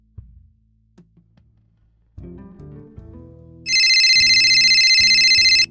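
A loud electronic phone ringtone starts partway through and rings on continuously, preceded by quieter indoor shuffling and thuds.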